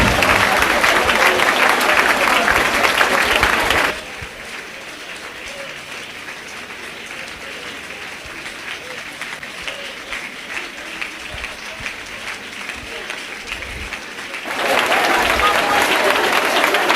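A church congregation at a missionary service bursts into loud applause and acclamations, swells for about four seconds, drops to a quieter murmuring stretch, then erupts again near the end.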